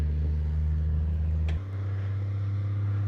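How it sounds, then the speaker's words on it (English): A 1940 Mercedes 320 barn find idles with a steady low drone from its holed exhaust, one sharp pop midway before the engine note drops slightly and settles into a lower hum. "Little popping and farting from that exhaust, but considering the holes in the exhaust, it all makes sense."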